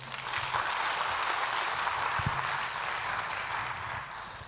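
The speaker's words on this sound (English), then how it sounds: "they deserve another round of applause" An audience at a second anniversary celebration applauds in a dense, sustained wash of clapping that stays loud and even throughout, with no talking.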